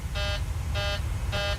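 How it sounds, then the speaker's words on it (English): Cabin altitude warning horn in a Boeing 737-700 cockpit in Microsoft Flight Simulator 2020: three evenly spaced, intermittent buzzing tones repeating over a steady low engine hum, with no voices. "So let's see if I can silence the alarm."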